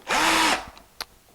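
A power drill with a large-diameter wood or metal bit bores into a very hard kitchen worktop, a loud, close whine rising in pitch for about half a second, then stopping, followed by a brief tap.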